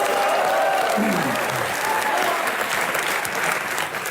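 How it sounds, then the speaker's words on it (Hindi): A studio audience at a comedy show gives loud, steady applause, with dense clapping filling the whole stretch at an even level. "एक बार जोरदार तालियां रजत सर के लिए।"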